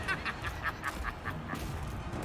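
Birds honk in a video game as a vampire attacks and kills them. About ten quick, nasal honks come in a steady, rapid run over a constant low rumble, with no talking.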